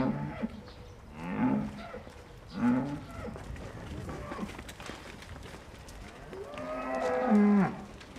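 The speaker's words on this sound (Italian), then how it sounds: "È arrivato il momento di far uscire le vacche dalla stalla perché possano godersi il pascolo all'aria aperta." Dairy cows moo inside a barn, several low drawn-out calls spaced a few seconds apart, moderately close over a murmuring background.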